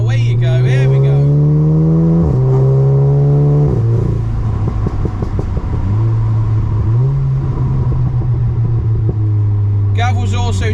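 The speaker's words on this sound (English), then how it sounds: "Almost instant boost, 4-wheel drive kicks in, away you go, here we go." A 400 BHP four-wheel-drive Audi with a DSG gearbox accelerates hard, its engine note climbing in steady sweeps broken by quick gear changes, loud and close from inside the cabin, with someone talking over the start and end.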